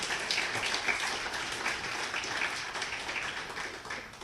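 Audience at a security conference closing ceremony claps steadily in a hall, a broad continuous wash of applause heard alone, moderately distant and fairly quiet, tapering slightly at the end.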